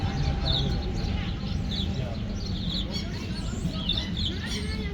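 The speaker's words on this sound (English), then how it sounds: "There are a lot of birds here right now." A flock of small, tame birds chirps nearby outdoors: repeated short, bright tweets scattered over a continuous low background rumble.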